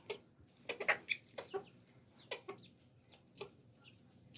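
Backyard chickens cluck softly close by, with a series of short, irregular clucks and chirps spaced across quiet pauses.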